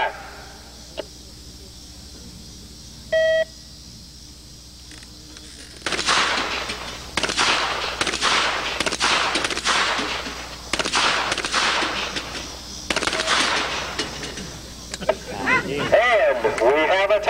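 Gunshots in a timed shooting competition: after a brief beep, a rapid run of sharp, loud cracks fires in quick bursts, with short pauses between strings, close by and followed by someone speaking.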